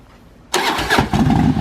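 A BMW K1100RS motorcycle with a straight-pipe exhaust, no muffler or resonator, fires up after a quiet moment, then settles into a loud, raw, rough idle that carries on close by.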